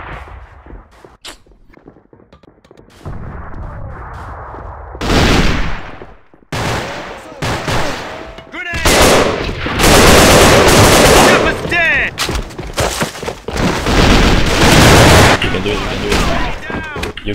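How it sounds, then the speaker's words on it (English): Gunfire and a grenade explosion in the online shooter AvA, with loud bursts of automatic fire, a heavy blast and near-continuous shooting, while players shout over the din. "Grenade straight ahead!"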